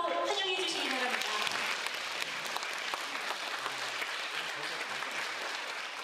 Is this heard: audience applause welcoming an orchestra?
yes